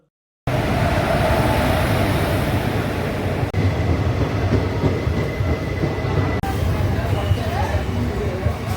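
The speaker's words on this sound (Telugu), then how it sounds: "మొత్తానికి వెయిట్ చేస్తూనే మన ట్రైన్ అయితే వచ్చేసిందండి" The Alipurduar–Tambaram Humsafar Express rolls into the station loud and close, heavy rumbling with a rhythmic clatter of wheels on the rails, steady throughout.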